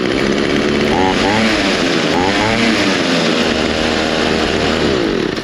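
A small engine on a repaired piece of lawn equipment starts on the first pull and runs loudly and steadily close by, its drone continuous throughout while people talk over it.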